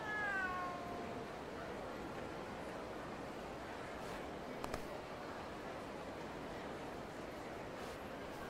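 A video game cat lets out a loud, drawn-out meow at the start, followed by a steady wash of ambient game noise with faint clicks and no voices.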